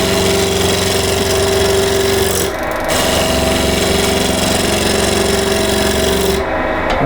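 A lathe turning a wooden bagpipe chanter, with a loud continuous whirring hum and a rattling, scraping tone from the workpiece, briefly dipping twice as cutting eases.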